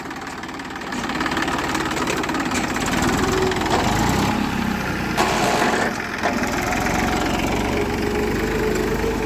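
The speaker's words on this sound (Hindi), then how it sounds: "तो हमारा ट्रैक्टर आ चुका है" A tractor's engine runs steadily for the whole stretch, a loud low rumble and idle-like chug that swells slightly partway through, with no talk over it.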